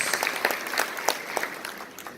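A congregation at a Carnival retreat applauds in a hall, sustained crowd clapping that tapers off slightly toward the end, with a few voices speaking over it.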